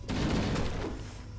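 A short, loud burst of gunfire aimed at a box in Halo: Combat Evolved, a quick volley that fades out over a second and a half.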